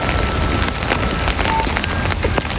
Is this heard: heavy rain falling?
yes